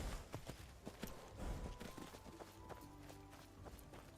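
A released horse gallops off in Skyrim, its hooves beating a quick, uneven clip-clop that stays faint and distant.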